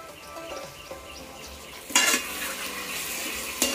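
Vegetables with tomato and green chilli sizzle steadily in a pressure cooker while a spoon stirs them, with a couple of louder scraping strokes against the metal pot, close and with no talk.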